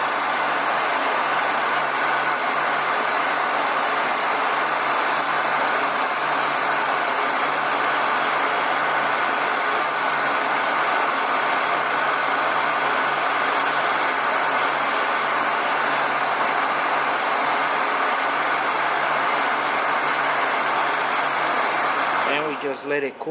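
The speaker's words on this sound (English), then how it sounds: "you want to heat it up and shrink it right in there" A heat gun shrinking heat-shrink tubing over a repaired cell phone power cord, a loud, steady blowing roar that holds unchanged for over twenty seconds before cutting off at the end.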